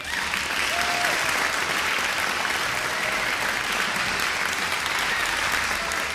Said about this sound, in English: let's get a big ol' round of applause because we made it